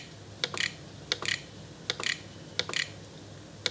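Someone types on a computer keyboard in bursts of quick, close clicks with short pauses between groups, over a low steady hum in a quiet room.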